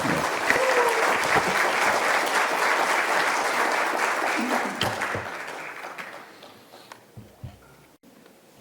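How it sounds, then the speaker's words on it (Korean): A church congregation at a Korean Baptist founding-anniversary Sunday service applauds to welcome a pastor: loud, sustained clapping for several seconds that tapers off into scattered claps and room quiet. "박수로 환영해 주시기 바랍니다"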